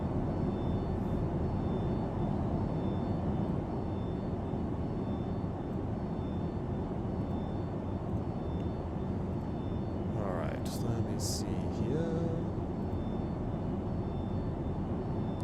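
Flap motors grind on a Boeing 727-200 tri-jet in the FSS flight simulator, a brief whirring strain rising near the end over a steady, loud cockpit and engine roar.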